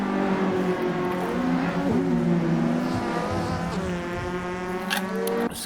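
Loud engines of GTI Challenge race cars roar continuously, revving and shifting pitch as cars pass close by, with no talk.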